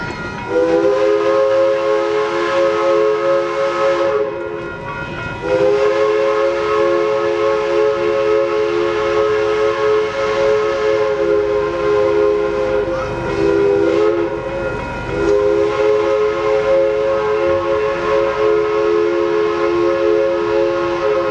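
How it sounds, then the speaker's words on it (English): Denver & Rio Grande Western steam locomotive 482 departs with a train bound for Silverton, sounding a loud chime whistle in three long sustained blasts separated by short breaks, over the rumble of the moving train. "we catch the first train to Silverton, departing with 482 on the head end"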